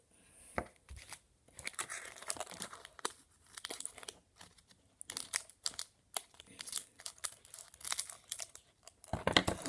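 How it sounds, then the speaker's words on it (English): Repeated crinkling and crisp snipping of a foil Pokémon Astral Radiance booster pack being cut open with scissors, in short irregular bursts, close up with no talking. "I'll get my scissors."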